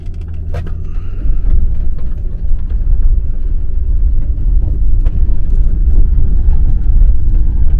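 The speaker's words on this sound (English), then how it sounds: "I'm manually shifting this vehicle climbing this mountain to give my transmission a little break." Van engine labouring up a steep mountain road in second gear, a steady loud low rumble with road noise that holds through the whole stretch.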